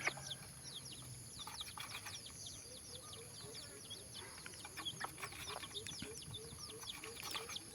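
Dense high-pitched peeping from many young mixed-breed jungle fowl chicks, a steady chorus of short chirps with some clucking and low background noise.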